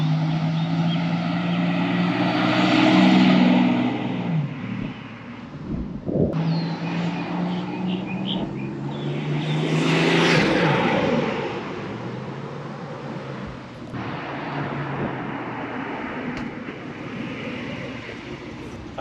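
A 1987 Buick GNX, number 532 of 547 with about 293 miles, on a test drive: a loud, steady engine drone and road rumble that swells and eases through the run, with no talking.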